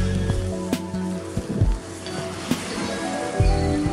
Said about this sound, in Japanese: 霧雨のような雨が降ってますね